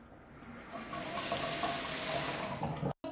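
Water pours steadily from a tap into a newly installed bathtub in a remodeled bathroom, a close, hissing rush that builds slightly before cutting off abruptly near the end.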